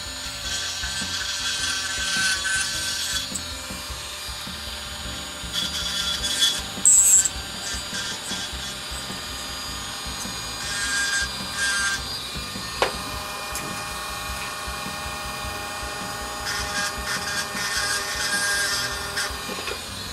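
Hand sanding of a carved wooden hammerhead shark, steady close scratchy rubbing strokes running continuously with brief louder bursts and no talking.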